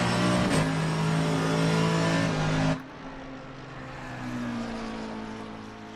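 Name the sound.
racing car engines in Assetto Corsa Competizione video game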